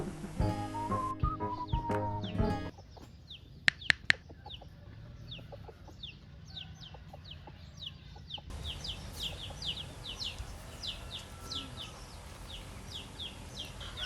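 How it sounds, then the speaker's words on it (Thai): A rooster crows near the start on a morning in Mueang Feuang, Laos, followed by scattered bird chirps and a soft rural background hum with a few sharp knocks. "ตื่นมาพร้อมกับเสียงไก่ขัน"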